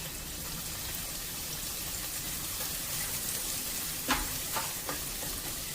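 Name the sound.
onions frying in hot ghee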